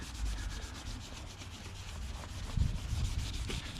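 A rub-out pad scrubs a very dirty dark-grey window frame, giving a faint continuous rubbing and scraping with brief firmer strokes near the end.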